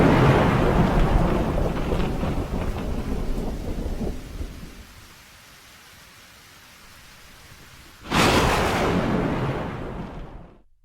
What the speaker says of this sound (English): Oh, finally, it looks as though the thunderstorm has passed.